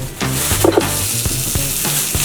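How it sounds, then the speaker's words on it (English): Spicy Italian sausage sizzles steadily in a hot pan, a constant crackling hiss with a few sharper pops and scrapes as the meat is stirred. "The sizzle. That's what you want to hear."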